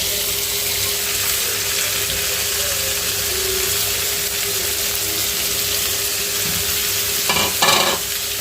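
Onions and small kachki fish fry in a pan with a steady close sizzle, broadband crackle running throughout, with a brief stir or scrape near the end.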